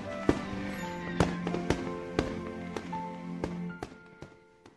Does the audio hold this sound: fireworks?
yes